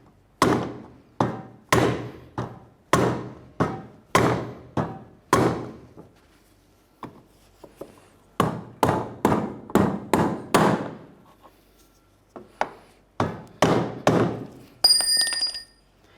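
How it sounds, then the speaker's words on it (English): Sharp metallic hammer strikes on a brass punch, driving in a Nissan Titan fuel pump part, land in steady rhythmic series, close and crisp, with a pause between two runs of blows. "We'll use a hammer and a brass punch to drive it in."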